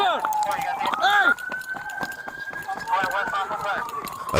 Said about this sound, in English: They scatter only when they hear a police siren from a patrol car responding to the request for backup.